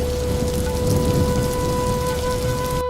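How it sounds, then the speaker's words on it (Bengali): Steady hill rain in Bandarban patters on a surface, a dense continuous hiss with a couple of faint sustained tones underneath, cutting off abruptly at the end. "হঠাৎ শুরু হলো বৃষ্টি"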